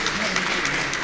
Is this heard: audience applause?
yes